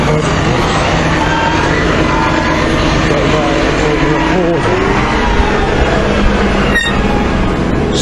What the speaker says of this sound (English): so we've got a tractor with a bucket my way